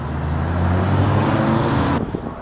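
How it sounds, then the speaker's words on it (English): A 2013 Toyota Avalon XLE engine runs close by as a loud, steady low rumble, holding even for about two seconds before the sound cuts off abruptly. "This is going to be a startup and full vehicle tour of the Avalon XLE."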